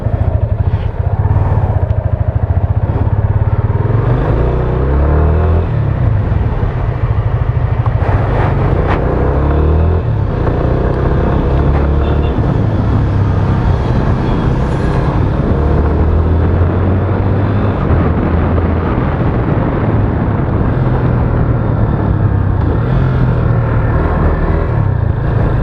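Yamaha FZ25 motorcycle engine and exhaust note while riding, a loud continuous drone with the pitch rising and falling through gear changes, mixed with wind rush.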